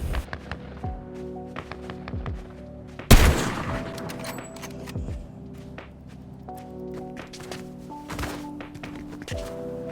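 A single loud gunshot rings out in a video game with a custom loadout, a sharp close crack amid footsteps, thuds and steady game ambience and music.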